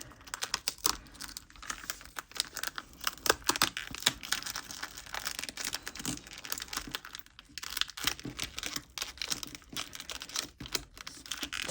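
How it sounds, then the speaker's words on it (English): A tough top film layer being peeled back off a resin DTF transfer for a frog trinket tray, giving a continuous crackling, crinkling tear with dense bursts and brief pauses, close and fairly loud, with no talking. "So we just have to peel this top layer off."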